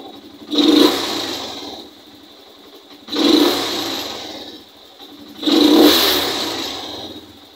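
A motorcycle engine fitted with a PE28 carburetor and PWK nozzle revs three times in even succession, each throttle blip rising sharply and quickly falling back to a quiet idle.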